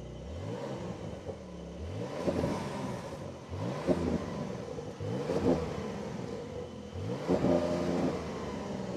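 A Porsche 911 Carrera GTS engine revs repeatedly while parked, climbing in pitch with each press of the throttle to about 3000 rpm and dropping back, several bursts close by with no talking.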